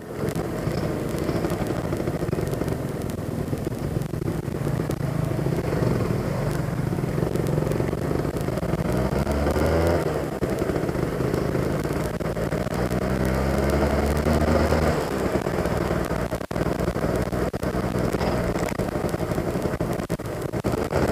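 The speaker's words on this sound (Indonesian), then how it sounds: "Dari tarikannya ini motor emang kalau RPM bawah itu kurang jambak ya guys" A Suzuki Satria 120 R two-stroke motorcycle engine pulls steadily under acceleration while riding, its loud buzzing drone rising and falling in pitch through the revs, with constant wind and road noise throughout.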